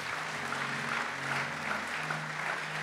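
A church congregation claps and cheers in praise, steady dense applause filling the room at a moderate level throughout, with a faint murmur of voices beneath.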